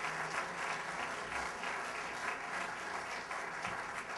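A large audience applauds the panelists at the close of a discussion on preserving John Lautner's architectural legacy, dense steady clapping with no voices over it.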